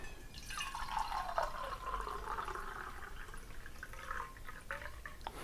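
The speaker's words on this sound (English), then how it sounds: "I've never actually poured this in, so we'll see exactly how much water fits in here" Water poured into a 10-ounce Yeti LowBall stainless steel mug, a steady trickling fill with a rising pitch as the cup nears full, close and fairly quiet, with no talking.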